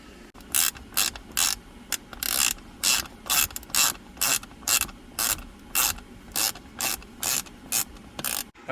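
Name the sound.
ratchet driver with Torx 15 bit on screws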